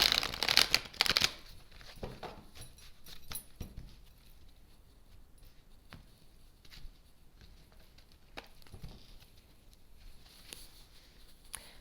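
Tarot cards shuffled and drawn by hand at close range, with a burst of brisk riffling at the start followed by scattered soft slides, taps and flicks of cards over a quiet room.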